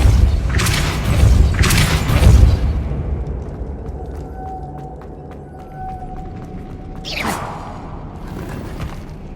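The Depulso spell in Hogwarts Legacy fires with loud booming whooshes, two heavy blasts close together early on, then a quieter stretch before another sharp swoosh near the end.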